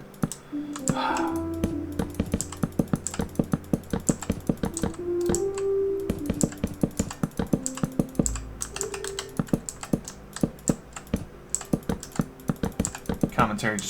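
Rapid, irregular computer mouse clicks during a video game, sharp and close, sometimes in quick bursts, over steady game tones and music.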